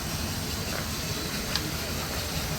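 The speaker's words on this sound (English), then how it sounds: "it's got a little high pressure steam pump going" A small high-pressure steam pump on a steam engine at a restoration club's engine shed hisses in a continuous broad wash, steady and fairly loud with faint mechanical ticks beneath.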